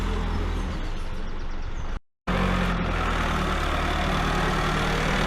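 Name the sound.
engine revving at full power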